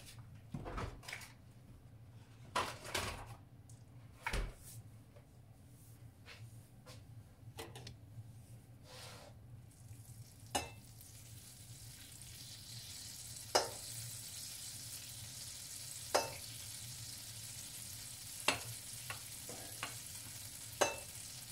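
Butter heating in a pan for a traditional brown sauce, a faint sizzle that builds and thickens over time, broken by several sharp clinks and knocks of utensils or cookware; no talk.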